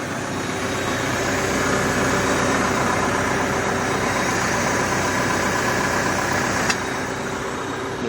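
Dusty tractor engine idles steadily at close range during land preparation beside a road, a loud continuous mid-pitched rumble with a faint knocking texture and one brief click near the end.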